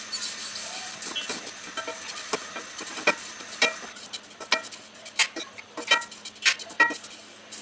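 Dried leaves dry-frying in a hot pan give sparse, crisp crackles and scratchy stirring scrapes, irregular and close, with no talking.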